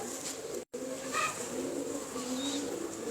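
Teddy pigeons cooing in a loft, with soft murmuring coos rising a few times over a steady background hum, close by and moderately quiet, with no talk.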